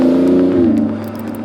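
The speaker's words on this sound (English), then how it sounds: "The transmission is programmed to downshift as far as it can go down without blowing up the transmission and the engine." A Lamborghini Revuelto V12 engine revs loud and close as the automatic transmission downshifts, its steady drone dropping in pitch partway through, heard alone.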